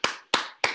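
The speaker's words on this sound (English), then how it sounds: "I want to make an applause for her." Three separate, sharp hand claps spaced evenly about a third of a second apart, close and crisp with short decays, from a wheelchair fencing coaching session.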